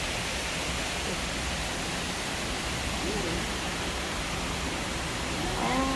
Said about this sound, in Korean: 어마무시하죠 이게 폭포